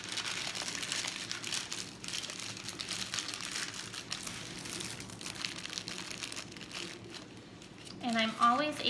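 Parchment paper crinkles and rustles steadily while homemade breakfast bars are wrapped, with a voice talking over the handling noise throughout.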